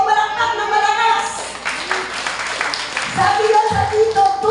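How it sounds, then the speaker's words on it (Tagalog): A church congregation at a Sunday worship service bursts into loud clapping. The applause swells briefly in the middle, with a voice sounding before and after it. "Na ang finish line sa langit, pumalakpak ng malakas."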